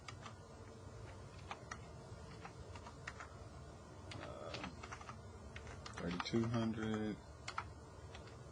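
Quick, crisp key presses as numbers are typed into a calculator, a series of light clicks that briefly speed into a rapid burst, with a voice speaking over them.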